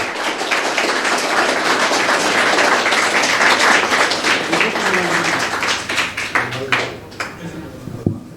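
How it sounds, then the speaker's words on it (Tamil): A crowd gathered for a Tamil astrology talk breaks into loud, dense applause that holds steady for several seconds, then thins into scattered claps and fades. "உங்கள் கைகளை தட்டி கொஞ்சம் ஆரவாரம் பண்ணுங்கள்"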